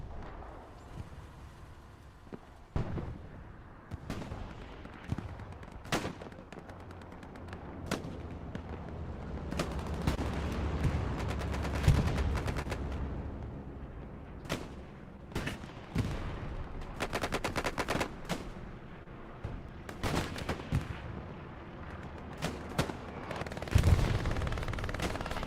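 Automatic machine-gun bursts crackle through a Hell Let Loose match at Driel's Brick Factory, with repeated sharp reports and heavier booms over a constant rumbling battlefield backdrop, without talk.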